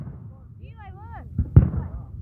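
Fireworks burst outdoors with a couple of sharp booming thuds, one louder than the other, following a rising whistling tone, while people talk in the background.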